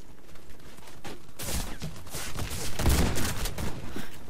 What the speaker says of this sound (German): So, jetzt mit der Shotgun hier.